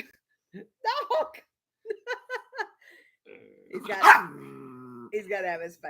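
A small dog gives several short yips and barks in quick clusters, close and fairly loud, mixed with a vocal, laugh-like outburst partway through.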